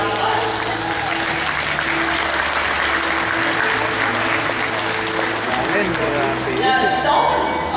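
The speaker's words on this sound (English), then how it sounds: "Great, you can give the round of applause." Audience applauding at a dolphin show in the Baltimore Aquarium, a steady dense clapping that carries through the whole stretch, with crowd chatter and voices mixed in underneath.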